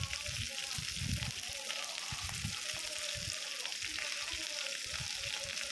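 Onions sautéing in a pan for poori masala, a steady broadband sizzle with bursts of low stirring and scraping, close and continuous throughout.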